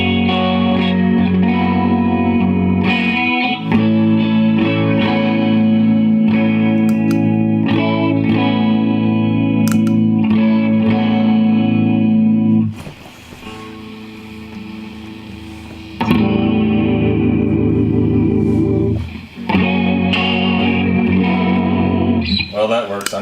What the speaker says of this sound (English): Try the chorus.